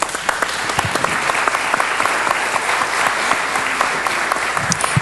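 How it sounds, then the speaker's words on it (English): At a 2010 Holocaust remembrance ceremony, an audience gives loud, continuous applause, with dense clapping and a few sharper individual claps. "And one final round of applause for Eva Kor, Helmut Kasper von Moltke, and R"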